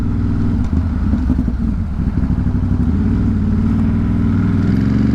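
A motorcycle lane splitting through city traffic on a freezing 32°F winter morning commute from Williamsburg to Dumbo, with a loud, steady engine drone and rumbling road and wind noise throughout.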